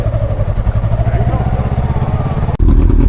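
Yamaha R3 motorcycle engine running under throttle, a steady mid-pitched drone with rough pulsing, rising slightly before an abrupt louder low burst near the end.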